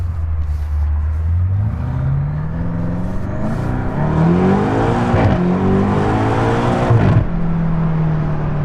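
A BMW M8 Competition Convertible accelerating hard through the gears, its deep, bassy engine and exhaust note rising in pitch and then dropping at each shift, loud and close from inside the car.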